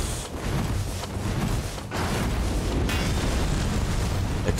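Explosive crosses detonating in Elden Ring, a dense run of loud, overlapping booms and rumbling blasts that fill the clip with little pause.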